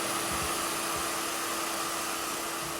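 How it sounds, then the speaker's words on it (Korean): A vacuum cleaner runs steadily inside a van being cleaned out, a loud constant whooshing hum with a high whine that holds unchanged the whole time, no voices over it. "청소기 소리를 피해"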